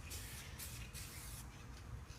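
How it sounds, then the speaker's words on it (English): A steady hiss of spray as a quick-cure coating from a BG 876 headlight restoration kit is applied across a headlight lens, continuous for a couple of seconds with short surges, fairly quiet and with no talk. "you start the spray on the paper, and then you spray across the lens"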